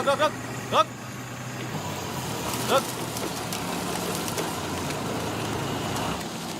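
A car engine hums steadily at moderate distance with a low rumble and a few brief clatters, while people talk over it.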